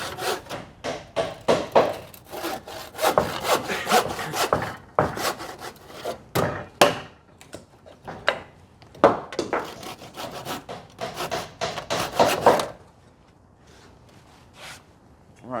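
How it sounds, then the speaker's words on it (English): A handsaw cuts through timber for valley rafter supports in a stud wall, its strokes close and loud in a steady, slightly uneven back-and-forth rhythm for about twelve seconds before stopping, with a voice briefly heard. "We have got a handsaw here somewhere."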